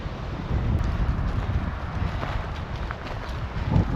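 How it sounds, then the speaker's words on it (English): Strong gusty wind buffets the microphone near a racecourse campsite, a continuous low roaring rumble with faint scattered knocks and no clear talk. "it's very windy today."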